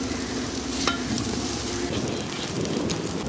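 A bread omelette fries on a street food griddle with a continuous even sizzle and crackle, steady and fairly loud, with no voices over it.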